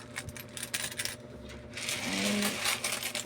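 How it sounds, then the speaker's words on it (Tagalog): Coins clink and rattle continuously as they are counted by hand, small metallic taps running steadily for several seconds with no speech. "Yan lang ang kaya nating bilang-bilangin ay pa barya-barya."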